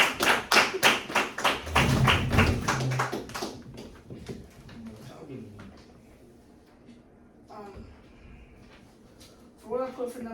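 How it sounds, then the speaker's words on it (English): An audience in a school classroom setting bursts into fast, dense clapping that fades after a few seconds, followed by a person talking with a few scattered taps. "Clap it up, clap it up!"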